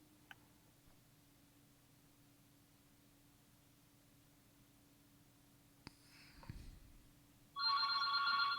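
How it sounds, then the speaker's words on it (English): A hotel telephone rings with a burst of electronic tone near the end, following a quiet stretch with a faint steady hum and a few small clicks and knocks. "Go ahead and answer that if you need to. That's okay. It's a hotel phone."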